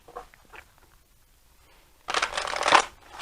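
A deck of cards is shuffled close by in one quick riffling burst, crisp and papery, after a quiet stretch with a few soft handling sounds.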